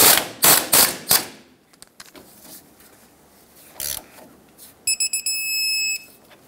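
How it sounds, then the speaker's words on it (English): A wrench tightens the tie rod castle nut on a 1996-2002 Toyota 4Runner, giving a quick run of loud ratcheting clicks, a lone later click, and then a series of short high electronic beeps. "Put the castle nut back on, snug it up, and torque it to 67 foot-pounds."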